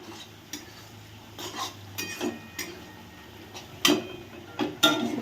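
Chopped coriander leaves being stirred into a cooking dish, heard as scattered clinks and scrapes of a utensil against a pot, sparse and close with quiet gaps between strokes.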